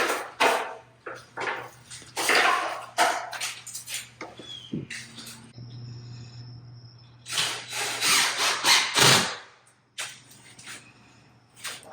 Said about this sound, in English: Out here drilling a ceiling in.